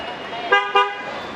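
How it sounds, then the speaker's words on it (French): Two short car horn toots in quick succession, fairly close, over low street noise in Hanoi. "ici à Hanoï, ça ne fait que klaxonner dans les rues"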